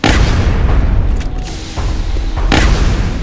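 Rapid-fire weapon shots in XCOM Long War: heavy booming bursts that land repeatedly over a few seconds, loud and close, with a dense rumbling wash between the hits.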